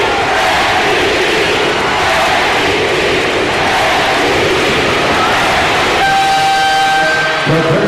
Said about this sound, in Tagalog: This capacity crowd chanting